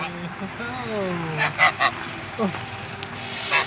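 Geese honk and call noisily up close in a village yard, hissing in a few sharp breathy bursts mixed in among the cackling.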